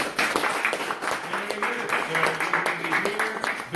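Applause from an improv theater audience for performers called back on stage at a graduation show, a loud, busy clatter of clapping with voices and cheers mixed in, continuing at a fairly even level.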